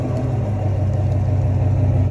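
A 2022 Chevy Silverado ZR2 with a 6.2-liter V8 and Borla exhaust rumbles steadily and loudly at a low idle, with no talking.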